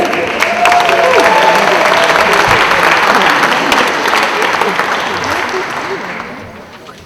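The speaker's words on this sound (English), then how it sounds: "let's clap it up for our readers" Audience applause for readers at a Frederick Douglass speech reading event, a loud, dense burst of clapping from a crowd that holds for several seconds, with a brief voice early on, then fades away toward the end.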